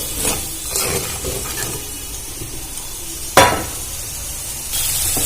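Ground chilli, Kashmiri chilli and turmeric paste fries in a pan for a village-style soybean dish, with a steady low sizzle, some stirring, and one sharp utensil knock near the end.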